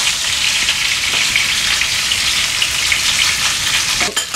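Chicken pieces sizzle steadily in plenty of oil in a frying pan, seared on both sides, a loud, dense crackle running throughout with a brief clatter near the end.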